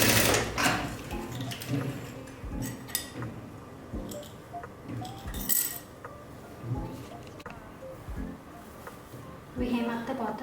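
A sewing machine hems the bottom of a jumpsuit's pant leg in repeated short runs of whirring stitches broken by soft thumps and clicks, close by, with a voice heard at times.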